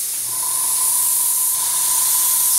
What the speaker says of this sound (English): you notice I'm holding my airbrush the same distance from it the whole time